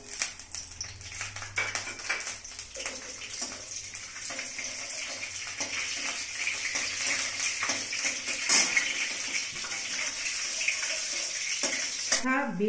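Nigella seeds and green chillies fry in hot mustard oil, making a continuous close sizzling hiss that swells and crackles louder toward the end.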